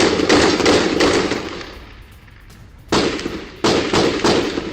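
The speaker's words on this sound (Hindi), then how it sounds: "बीच सड़क पर फायरिंग करते दिखे बलोच लड़ाके" Baloch fighters fire long, loud bursts of rapid gunfire on a road in front of a Pakistani military post in Balochistan. A short lull follows, then two more sustained bursts ring out close and harsh.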